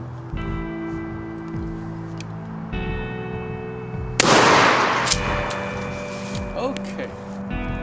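A 12 gauge shotgun firing Remington 00 buckshot at a 15-yard range during a choke tube test, one sharp loud blast midway with a decaying tail, surrounded by talk and a low background hum.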